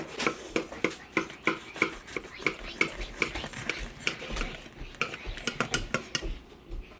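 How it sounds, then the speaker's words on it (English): A knife sawing through a loaf of gluten-free bread made from Pamela's bread mix, with steady rhythmic rasping strokes, about two or three per second, close and moderately loud. "Okay, now cut slices."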